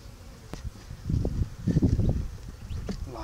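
Honeybees buzz during a hive inspection, a soft droning hum under occasional handling noises of the comb, rising in bursts near the middle.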